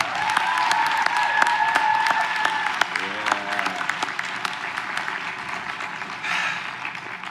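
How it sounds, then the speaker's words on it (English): Crowd applause for the West Valley High class of 2021 at a live graduation ceremony, a dense sustained clapping that fills the hall from start to finish, with shouts and cheers rising over it toward the end. "Let's get a round of applause for the West Valley class of 2021."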